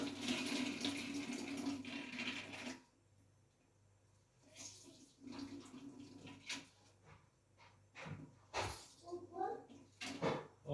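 Juice from grated onion for çiğ köfte is squeezed out in a close, rushing splatter of liquid for a few seconds, then soft handling noises follow while someone talks.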